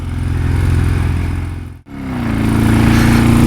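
A 1979 BMW R100S motorcycle engine runs loud and close with a steady low throb, briefly cutting out almost to silence midway, then returning and rising in pitch as it revs.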